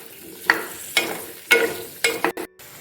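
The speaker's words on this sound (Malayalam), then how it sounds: "കാഷ്യൂ നട്ട് വറുത്തെടുത്ത ആ നെയ്യിലേക്ക് കുറച്ചും കൂടെ നെയ്യ് ഒഴിച്ചിട്ടുണ്ട് കേട്ടോ എന്നിട്ട് ക്യാരറ്റ് ഇട്ട് കൊടുക്കുകയാണ്" Grated carrot sautéing in ghee left from frying cashew nuts, a soft sizzle punctuated by four or five distinct scraping strokes of a spoon across the pan, close up, with a brief cut near the end.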